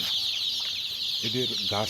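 Tiger chickens on a farm give a few short clucks in the second half, close by, over a steady high hiss of background noise.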